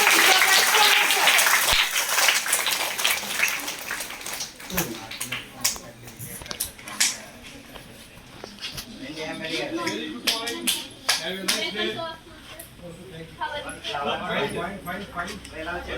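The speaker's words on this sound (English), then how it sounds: "Give them a big applause to establish it on the new school." A school audience claps at the welcome for the new academic year at Usha Model School, a loud burst at the start that fades under a speaker's voice, with scattered claps continuing behind the talk.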